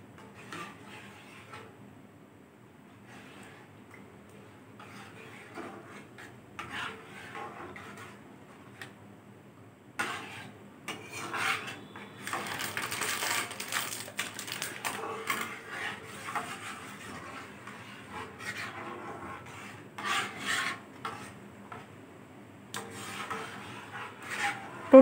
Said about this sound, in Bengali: তো গুঁড়ো দুধটা দিয়ে আমি প্রথমে দুধের সঙ্গে গুলিয়ে দেব।